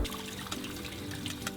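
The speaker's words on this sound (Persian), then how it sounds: "لیلا اول 100 گرم آلو رو که از قبل خیس کرده آب کشی میکنه" Water pours and trickles steadily over pre-soaked plums being rinsed, a close, continuous splashing stream with no talk.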